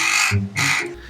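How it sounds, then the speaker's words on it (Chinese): A hooded crow gives two harsh, loud caws in quick succession, close and clear against a quiet background with no voices. "这种乌鸦叫做冠小嘴乌鸦，它是非常聪明的鸟类。"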